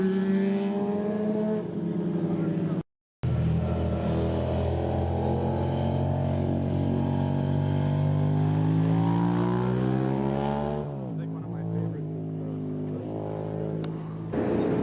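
A black Yamaha sport motorcycle rides past on the winding Mulholland Highway, its engine note rising loud and close for over ten seconds, then fading away, with faint traffic after.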